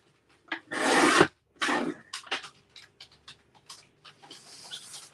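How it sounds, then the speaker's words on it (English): Paper strips are cut for a Christmas double-page scrapbook layout: two long rasping slices, then a run of short scratchy snips and light taps, close and with no talk. "Let's cut 2 1/2-inch strips."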